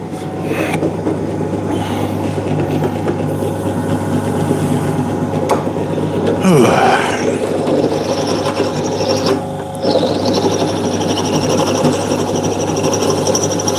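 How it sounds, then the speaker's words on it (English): A power drill whines steadily against metal while drilling out a rivet tool for the whole stretch, with a brief surge and dip partway through as the bit bites. "let's see if I can drill the rest of this freaking monkey tool out"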